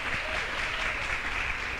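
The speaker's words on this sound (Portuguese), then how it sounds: "Uma salva de palmas." A brief burst of audience applause for a guest professor at an education conference, a dense, moderately quiet patter of many hands.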